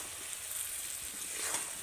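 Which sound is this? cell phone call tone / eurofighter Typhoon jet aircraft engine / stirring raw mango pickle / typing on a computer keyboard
stirring raw mango pickle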